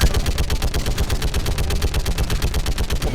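Rapid automatic gunfire in the Mass Effect Legendary Edition video game, a loud, sustained burst of evenly spaced shots, roughly five per second, continuing for several seconds with no talk.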